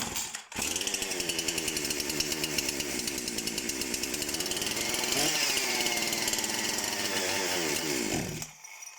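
A Husqvarna 353 chainsaw engine runs loud and steady close by after a brief start, holding a high buzzing drone with small shifts in speed before it cuts off near the end.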